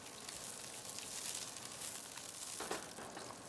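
Stir-fry peppers for squid dropped into hot oil, giving a steady, close, loud hiss of sizzling with crackles throughout and no talking.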